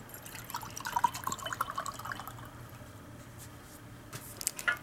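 Water is poured into a container of dye oxide as a soft, close trickle and splash that fades after a couple of seconds into faint drips and quiet room noise.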